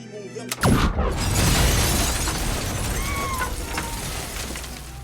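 A radio bursts apart in a room in a film scene: a sudden sharp blast followed by a dense, sustained roar of crackling debris and rumble that slowly fades.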